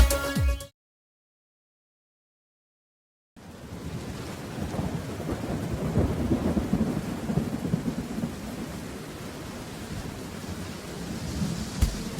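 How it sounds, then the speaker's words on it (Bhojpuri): Thunder rumbles over steady rain in a children's rhyme sound effect. A sustained, fairly loud downpour with rolling thunder follows a few seconds of silence after a brief musical snippet. "झम झम झम झम बारिश आई"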